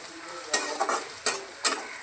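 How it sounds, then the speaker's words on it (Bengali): Cauliflower and egg frying with spices in a pan, a soft steady sizzle broken by several sharp scraping strokes of a spatula stirring, close and with no talking. "একটু দাঁড়াই, একটু ভাজা ভাজা হোক।"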